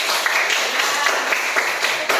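A classroom group claps for a student named Andin: a steady, dense patter of many hands lasting a couple of seconds with no voices over it.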